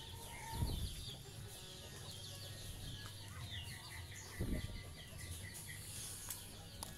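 Muscovy ducks in a farm pen, a busy, faint mix of clucking and chattering fowl calls under steady background noise, with a couple of louder low thumps.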